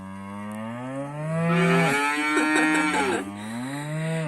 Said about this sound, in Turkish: Annesi orada seslenir, böğürür.